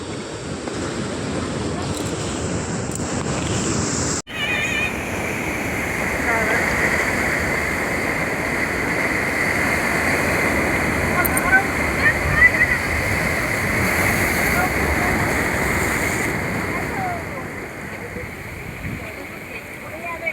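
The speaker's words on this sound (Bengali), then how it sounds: "কি ঢেউ এখানে বলো" Sea waves break at the beach in Digha in a loud continuous rushing wash, with wind buffeting the microphone and voices faint in the background.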